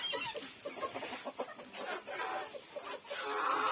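Several bantam and miniature Wyandotte chickens cluck and murmur close by in a steady, busy stream, with a faint rustling farmyard background.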